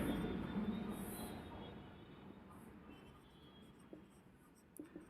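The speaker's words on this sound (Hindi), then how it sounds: "यहाँ पे लिखेंगे नेट डिक्रीज" Handwriting on paper while someone prepares an accounting cash flow statement, a soft scratchy rustle that fades through the clip, with a few small taps near the end and no speech.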